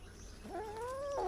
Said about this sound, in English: I guess I'll just carry the cat.